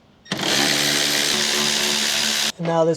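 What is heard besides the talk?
power tool removing bolts from BMW X1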